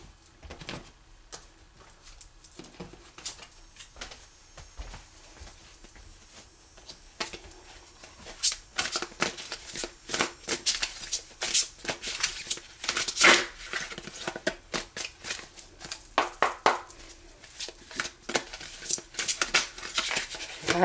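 Tarot cards being handled, shuffled and laid out during a reading, giving a run of soft, quick papery flicks and riffles that grow busier and denser toward the end, close by and with nobody talking.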